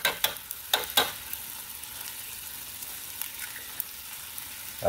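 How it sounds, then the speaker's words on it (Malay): Eggs frying in a wok with rice vermicelli for bihun goreng, a steady soft sizzle punctuated by a few sharp scraping stirs early on and near the end, no voices. "Kita masukkan telur dan kita terus kacau ya."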